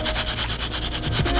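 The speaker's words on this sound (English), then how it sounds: "So with the stiff bristle brush, you don't really have to put a lot of pressure on it." A stiff bristle brush scrubs the foam midsole of an Adidas Prophere sneaker in quick, even back-and-forth strokes, producing a steady close-up rasping sound.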